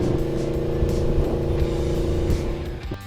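A Yamaha V-Max motorcycle with a nearly unrestricted custom exhaust revs hard close up, a loud, rich, throaty engine note held steady and rising before easing off at the end.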